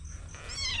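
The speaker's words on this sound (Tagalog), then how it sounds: "pagka ganyan nakikikubo yung mga pusa na yan pagka nakaamoy ng tao sa kubo" A cat meows near a rural hut on a vegetable farm, one drawn-out, rising cry about a second long, heard on its own with no talk over it.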